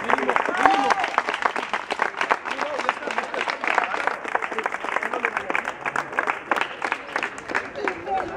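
Applause and cheering from a street crowd at a Digimon flashmob, a busy crackle of clapping with voices mixed in, moderately loud and continuous.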